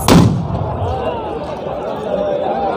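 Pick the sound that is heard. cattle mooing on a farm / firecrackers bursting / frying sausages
firecrackers bursting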